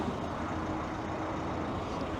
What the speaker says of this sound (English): the noise of all the trucks and all going by me